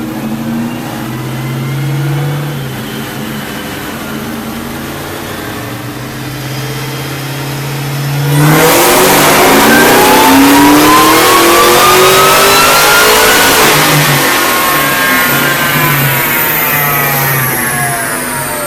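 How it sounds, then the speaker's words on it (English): A car engine on a dyno, breathing through a JLT 12-inch cold air intake with a 105 mm mass air tube on a KB Cobra, idles then revs hard with a loud rising intake roar held for several seconds. "We got a SCT BA3000 in the JLT tube, which is 105 millimeter mass air."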